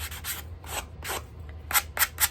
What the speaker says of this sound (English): I will just take a sanding block